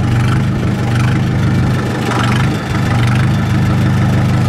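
Tractor engine running close by at a steady, loud idle, a continuous low rumbling chug with no pauses.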